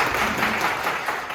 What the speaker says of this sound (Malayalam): നവാസിന് എല്ലാവരും കയ്യടി കൊടുക്കുക.